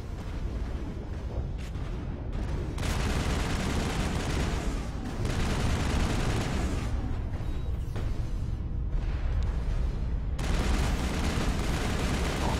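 Enemy gunfire in the video game Mass Effect rattles on in dense, continuous bursts, loud and near, with brief dips between volleys and no talking.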